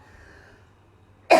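A single short cough bursts out loudly at the very end after near silence.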